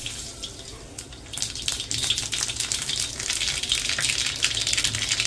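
Mustard seeds go into hot oil and crackle with a bright, hissing sizzle that grows louder and denser after a quieter first second, then keeps up a steady, close spatter.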